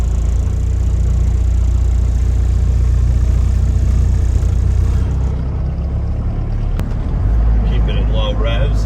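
The engine of a 1992 Range Rover Classic two-door runs cold at low revs on a chilly day, a loud steady low rumble with a slight dip in the middle.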